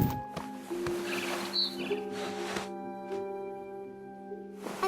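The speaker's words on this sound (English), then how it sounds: "Then I heard chirping outside my window. It was a barn swallow going back to her nest." Barn swallow chirping in the game What Remains of Edith Finch, a few faint, brief high chirps over a steady low ambient drone and scattered background sounds.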